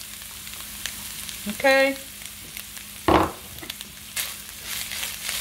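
Five or six strips of bacon frying in a pan, a steady low crackle with two louder bursts of sizzle and stirring, and a brief spoken word.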